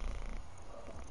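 A cat purrs close up in a brief, soft, rhythmic rumble, faint and steady with no talk over it.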